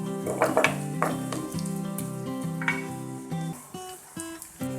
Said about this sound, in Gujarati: આ રીતે આપણે પનીરને તળી લઈશું